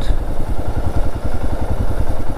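A motorcycle engine on a rural road in Karbi Anglong, Assam, thumps loud and close in a rapid, steady pulsing rhythm, with no voices.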